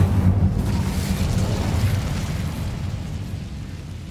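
Incendio fire spell cast in Hogwarts Legacy, a loud whooshing burst of flame with a heavy booming low rumble that fades slowly over several seconds, with no voices.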